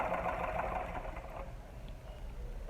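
Sewing machine stitching a seam on a pearl-trimmed baby shoe with a backstitch, a steady close mechanical whir running continuously without pause.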